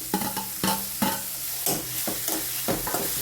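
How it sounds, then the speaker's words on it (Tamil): Onions and tomatoes sauté in a pan for egg curry, giving a close, lively sizzle broken by several quick scraping stirs. "நல்ல பேஸ்ட்டு மாதிரி நல்லா இப்படி வதக்கினேன்."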